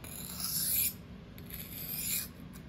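An M4 steel knife is drawn freehand across a sharpening stone in two soft, close rasping strokes, each swelling and fading, with no talking.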